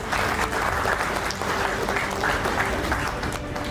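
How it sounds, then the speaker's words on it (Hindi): An indoor audience at a celebration of coaching-institute students' entrance exam results claps loudly for their parents. It is a dense, continuous burst of many hands, close and full, with no voices. "तो मैं अब चाहूँगा कि सभी लोग अपने पेरेंट्स के लिए एक बार जोरदार ताली बजा दें।"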